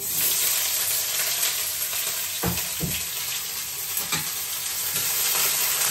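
Loud, steady sizzle of chopped onion frying in oil with bay leaf, with a few scraping stirs, close and continuous, no talking.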